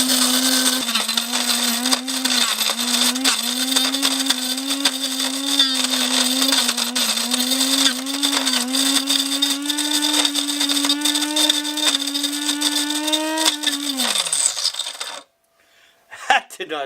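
Coffee grinder chewing through bourbon-soaked coffee beans: a loud, strained grinding roar with a droning motor whine that slowly rises, then winds down and cuts off near the end, followed by a few rattles.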